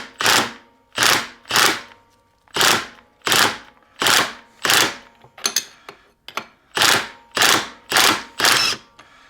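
A wrench turns a flywheel puller on a dirt bike: about a dozen loud, evenly spaced ratcheting clanks close by, each a sharp burst with a short tail.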